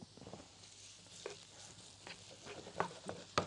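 Garlic and onion sizzle in olive oil and butter in a pan, a steady soft frying hiss broken by a few stirring scrapes and crackles, fairly quiet and close.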